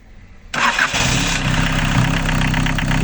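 An Isuzu 1.7 diesel engine from an Opel Combo cranks briefly and catches, then settles into a loud, steady clattering idle close by.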